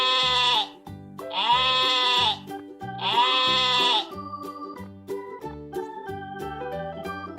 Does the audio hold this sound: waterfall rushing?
no